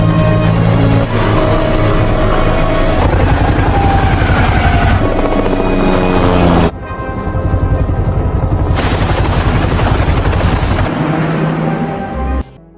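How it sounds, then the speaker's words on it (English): A helicopter roars loudly and continuously with the rapid chopping thump of its rotor blades, close and dominant, with brief shifts in intensity and a sudden cut near the end. "Nick rushes to a helicopter and they fly to the scene"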